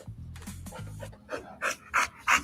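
A dog pants close by, fast and breathy, with a few low whimpering tones at first and then four loud, rhythmic puffs of breath.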